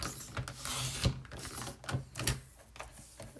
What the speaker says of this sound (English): cut your scraps of platinum shimmer cardstock at the 1/2 inch width